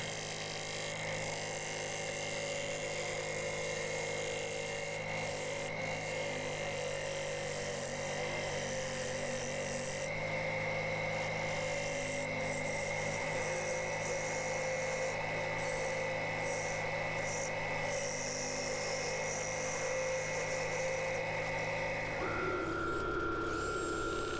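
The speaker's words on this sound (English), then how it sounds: "just power sanding with the 60 grit all the way up to 800 grit" Continuous whirring drone of a power sander on a sycamore crotch bowl spinning on a wood lathe, 60 to 800 grit, steady throughout with a brief pitch shift near the end.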